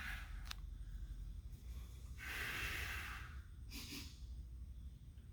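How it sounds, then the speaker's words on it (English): Heavy, strained breathing during a plank hold, with several close, audible breaths and a snort-like exhale standing out against a quiet background. "Breathe the whole time."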